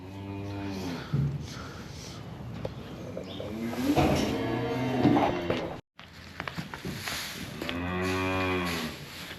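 A calf on a farm gives several loud, drawn-out moos close by, with a short gap between calls and faint rustling and snorts in between.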